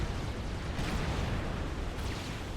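Rockets and Gatling gunfire from Mongoose units in a Supreme Commander: Forged Alliance free-for-all battle, a dense continuous rumble of distant explosions and rapid fire, steady throughout with no clear individual shots.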